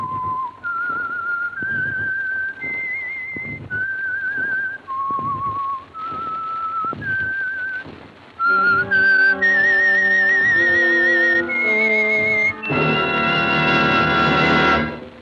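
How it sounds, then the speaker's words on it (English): A lone whistler performs the signature tune of The Whistler, an old-time radio mystery program. Clear sustained notes rise and fall in a slow melody, then give way to a fuller orchestral passage with a brighter, denser finish. "the signal to listen for is this whistle that identifies the signal oil program"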